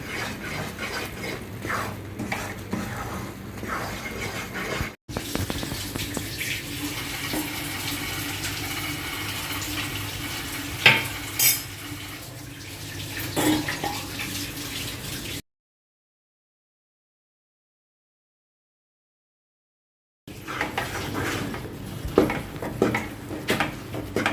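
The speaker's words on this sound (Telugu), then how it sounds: "వేడిగా ఉన్న ఆయిల్ పోస్తూ ఉంటే ఇది పిండి బాగా వేగి చాలా బాగుంటుంది మైసూర్పాకు పోస్తుంటే ఇలా కలుపుకుంటూ ఉండాలి" Gram flour batter for Mysore pak stirred in a pan as hot oil is poured in, a soft bubbling hiss with steady scraping and clicking strokes, cut by a silent gap before stirring resumes.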